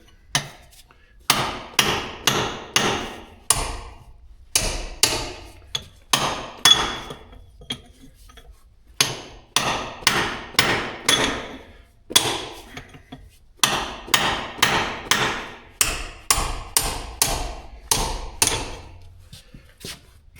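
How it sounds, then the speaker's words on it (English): Steel chisel hammered against wedges to free axle parts from their keyways during A4T axle and brake work: sharp metallic strikes in rapid bursts of five to eight blows, separated by short pauses, loud and close with no talk. "Using the chisel, trying to get them off the keyways."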